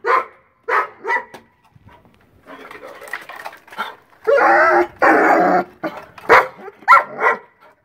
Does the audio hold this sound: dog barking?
yes